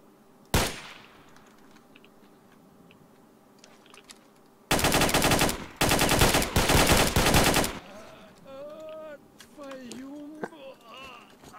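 Loud bursts of automatic gunfire in STALKER: Shadow of Chernobyl, a sharp single shot first, then a dense sustained volley of several seconds, followed by quieter game ambience with faint tonal chirps.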